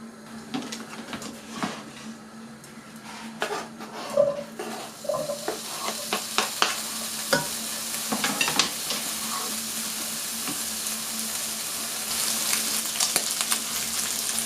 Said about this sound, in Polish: mam tutaj patelnię i będę smażyć.